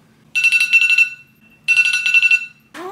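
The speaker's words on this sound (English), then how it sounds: "The timer's about to go off." An oven timer sounds while pizza bakes, giving two loud bursts of rapid electronic beeping separated by about a second of quiet. A brief, different sound cuts in at the very end.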